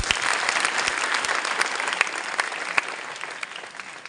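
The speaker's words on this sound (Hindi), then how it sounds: "जोरदार तालियां।" An audience at a prize distribution ceremony for top U.P. Board students applauds, dense steady clapping with a few sharp claps standing out, fading slightly toward the end.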